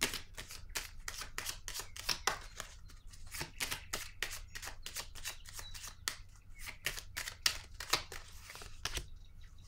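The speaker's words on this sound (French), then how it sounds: "Je vais déposer une carte ici." Tarot cards are shuffled and laid down during a reading, giving a long run of sharp, crisp card flicks in quick irregular bursts, close and alone with no voice.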